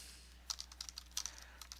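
Faint, quick keystrokes on a computer keyboard, a short burst of light clicks over a low steady hum, close by but quiet, with no voices.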